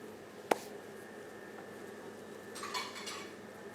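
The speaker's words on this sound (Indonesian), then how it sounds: "Gip, ambilin piring." A plate picked up and handled in a baking kitchen, with one sharp ceramic clink followed by a few quieter clatters of dishware against a faint background hiss.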